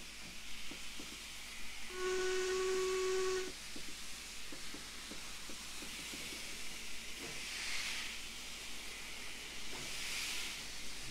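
Steam hisses from a steam locomotive in the Train Simulator 2014 game, an Austerity-class engine, as a steady broadband rush over a low rumble, with a brief tonal whistle-like burst early and later swelling hiss bursts.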